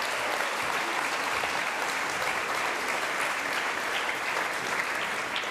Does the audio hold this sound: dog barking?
no